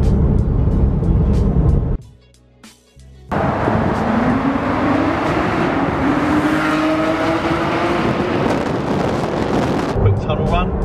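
Porsche 991 GT3 RS flat-six engine echoing loudly through a tunnel, a sustained roar with rising pitch under acceleration, briefly interrupted by a near-silent gap, then returning strong and continuous.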